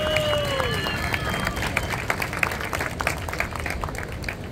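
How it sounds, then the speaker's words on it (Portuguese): A crowd applauds and cheers at a surf festival awards ceremony in Saquarema, dense clapping continuing throughout, with rising whistles and murmuring voices mixed in at close range. "Podem aplaudir, galera, os campeões da categoria Pro Júnior."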